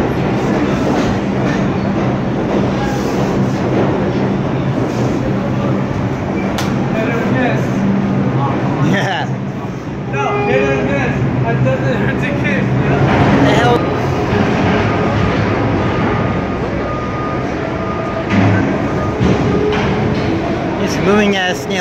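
An R62 subway car on the 2 train rolls along with a steady loud rumble and clatter of wheels on track, with voices talking over the noise throughout.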